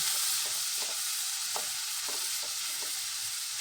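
Banana stem with salt and a ground paste is stirred in a frying pan, giving a steady, close sizzle broken by regular scraping strokes of the spoon, with no talking.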